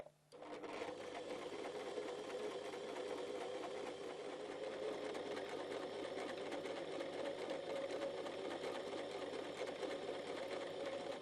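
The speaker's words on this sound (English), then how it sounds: "You are now ready to sew the length of the other side of your buttonhole." An Empisal Protea Elite sewing machine stitching the second side of a buttonhole runs in a steady, continuous whir at close range, starting abruptly and holding an even pace throughout with no talking.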